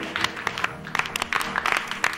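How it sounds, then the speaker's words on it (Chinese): Applause from a live audience greeting a dance performance on a variety show stage, a dense, steady patter of clapping running throughout with no voices over it. "掌声欢迎。"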